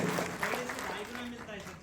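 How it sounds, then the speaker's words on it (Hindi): Applause rises at a business presentation about the Oriens business plan, a steady wash of clapping from an audience running the whole time beneath a voice talking over it. "एक बार तालियां हो जाए।"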